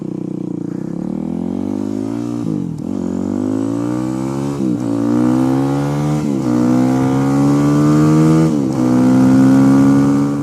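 A BMW dual-sport motorcycle with a wide-ratio transmission, running a little rough, pulls hard through the gears. Its loud, close engine drone climbs in pitch, drops at each of several shifts, then climbs again, with no talking.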